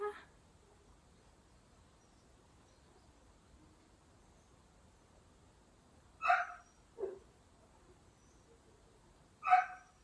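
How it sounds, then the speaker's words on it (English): A neighbour's dog barks outdoors next door, a few sharp distant barks spaced apart over faint background insect chirring in an otherwise quiet room. "If you can hear the dog next door, it barks when it goes outside"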